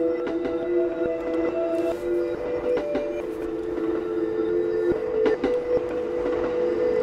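Moving train in the horror game Ghost Station, a steady rolling rumble with sustained tonal hum and occasional clanks and clicks, continuous and fairly loud throughout with no one talking.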